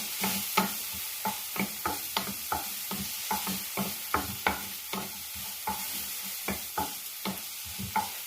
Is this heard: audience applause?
no